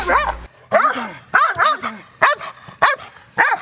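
A dog gives aggressive bark training at a box, firing about seven sharp, loud barks in an uneven rhythm, close by, with short gaps between them.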